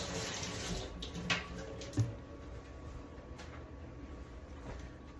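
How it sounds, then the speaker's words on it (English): An onion rinsed under a running kitchen tap, a steady faint stream of water with a couple of soft splashes as it is handled, no talking. "I'm gonna rinse this onion off"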